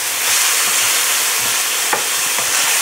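Rib tips sizzle and fry steadily in a hot pan while being browned, a continuous close crackle with a brief stirring scrape partway through and no talking.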